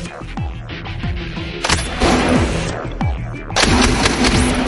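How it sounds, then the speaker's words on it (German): A General Dynamics Mark 19 belt-fed grenade launcher fires a run of heavy, booming shots in steady succession, close and loud with echoing tails between rounds. "Die Waffe feuert 60 Mal in der Minute."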